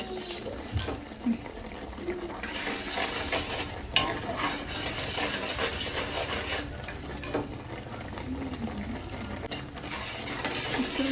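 A ladle stirring thickening mango sweet in a pan: continuous close scraping and sticky bubbling with steady rhythmic strokes.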